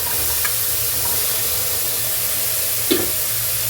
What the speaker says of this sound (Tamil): நறுக்கிய எல்லோ பம்கின்ங்கிறத அந்த பரங்கிக்காவை நம்ம போடுறோம்